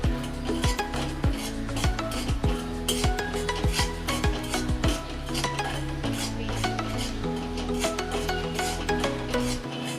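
Semolina (rava) roasting in a pan over a low flame while being stirred constantly for sheera, a steady run of scraping, rasping strokes of the spoon against the pan bottom, close and clear with no talking.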